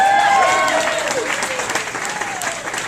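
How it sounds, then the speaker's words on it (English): Sustained crowd applause fills a baseball stadium at night, broad and steady, tapering slightly toward the end, with faint voices and whistles mixed in. "Round of applause for Caitlin."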